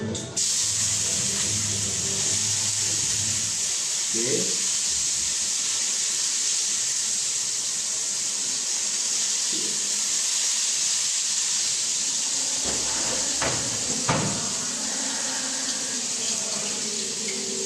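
Steady loud sizzling hiss of shallots, garlic and ginger frying in a hot wok, continuous throughout, with a few clanks and scrapes; a voice speaks briefly.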